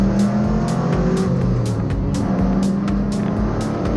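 Race cars roar off the line together at Bathurst in a racing video game, a dense, steady engine drone with overlapping revs and no talk.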